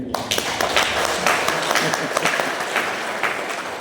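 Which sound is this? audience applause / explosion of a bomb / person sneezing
audience applause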